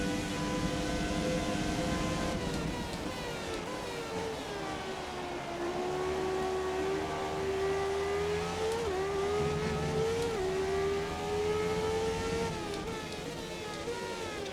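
A race car engine in an F1 video game revs hard and continuously, its pitch climbing and falling through gear shifts, loud and steady with no talk over it.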